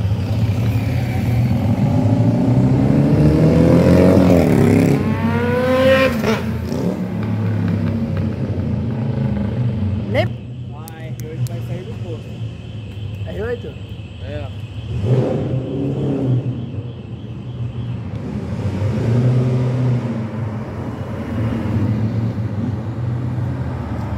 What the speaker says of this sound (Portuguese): Essa BMW é rara, hein? Essa é uma E46.